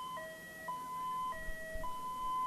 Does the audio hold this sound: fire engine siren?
yes